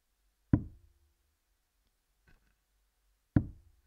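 Steel-tipped darts thud into a dartboard during a professional darts match, two sharp close impacts about three seconds apart with a faint tap between, in a quiet room.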